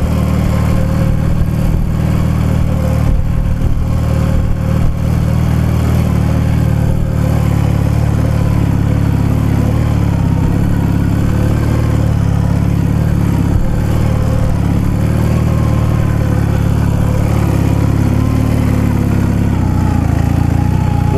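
A motorcycle stuck in snow revs continuously at high throttle, its engine droning loud and close while the rear wheel spins without grip, with clattering and surging pitch throughout.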